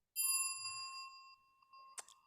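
A bright bell chime rings out and slowly decays, followed by a short soft click near the end; alone, no voices.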